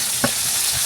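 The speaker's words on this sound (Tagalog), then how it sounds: "Sotay mo natin ang sibuyas." Onions sautéing in a pan, a steady broadband sizzle with one brief clink of utensil against the pan near the start.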